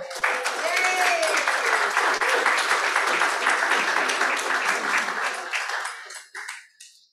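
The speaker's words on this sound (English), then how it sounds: "I don't know why people clap" A library audience applauds a speaker being introduced, a dense, steady wash of clapping that holds for most of the stretch before tapering off near the end.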